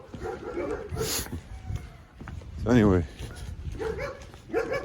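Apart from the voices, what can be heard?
dogs barking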